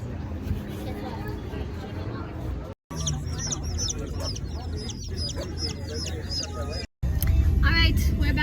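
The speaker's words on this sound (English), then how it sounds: "There are lots of chickens around here" Chickens cluck around an outdoor spot in Hawaii, with several birds calling in short bursts amid steady background noise and murmured voices, fairly close and moderately loud.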